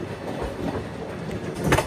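Machilipatnam Express passenger train rolling along, a steady rumble with light clatter throughout, swelling into a louder rattle near the end.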